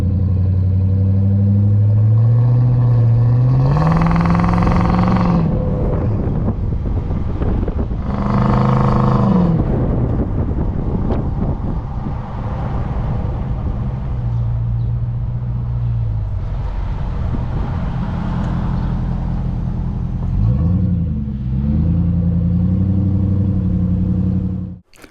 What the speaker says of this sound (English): You can listen to my exhaust system, my new exhaust system I have on here as well.